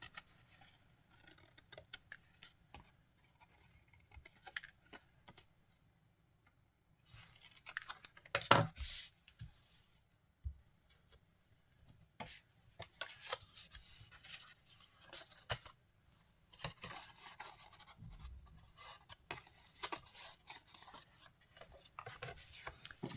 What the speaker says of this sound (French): On coupe en biseautant.